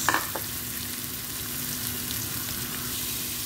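Chopped onions fry in a pan with a steady, soft sizzle while being stirred, a few faint scrapes near the start, no voices.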